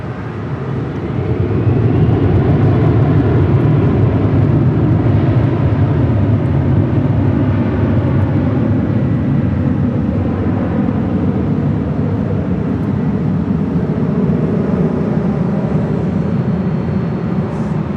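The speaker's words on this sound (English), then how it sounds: "Delta A330 also coming in from JFK," A Delta Airbus A330 arriving from JFK at LAX makes a loud, sustained jet roar. The roar swells over the first seconds and holds steady and broadband to the end, with no talk.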